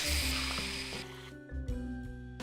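The chemical thrower from the Immersive Engineering mod sprays in a video game with a close hissing gush that cuts out, followed by short clicky game effects and a fainter hiss.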